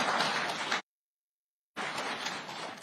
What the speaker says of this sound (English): I thought you would clap.